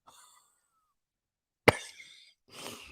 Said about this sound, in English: I really laughed. It made me cough.